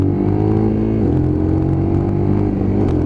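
A Lexmoto LXR motorcycle pulls away quickly, its engine loud and close with a steady, buzzing drone as it accelerates from the mark.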